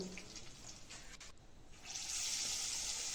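Water from boiled cauliflower is drained off in a kitchen: a soft hiss of pouring that turns into a louder, steady rush of running water.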